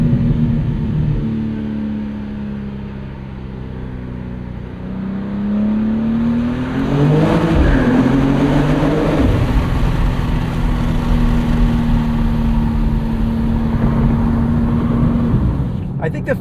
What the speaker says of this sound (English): this is spinning its wheels into third gear is proof enough to you guys that it is wicked fast